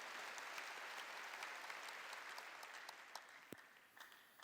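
A church congregation bursts into applause, a dense wash of many hands clapping that holds loud and steady before gradually thinning out.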